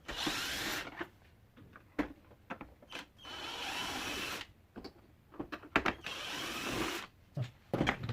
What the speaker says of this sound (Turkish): Bu vida yerimizden vidalarımızı sökelim.